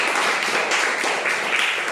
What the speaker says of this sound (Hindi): शाबाश, तालियां बजाओ।